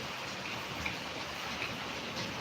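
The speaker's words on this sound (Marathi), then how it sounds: "भरपूर असा पाऊस चालू आहे" Heavy rain falls as a continuous even hiss, with no voices and no breaks, during the Diwali season.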